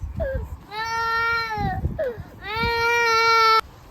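A baby cries in two long wailing bursts with a short whimper between them, loud and close, with light background noise.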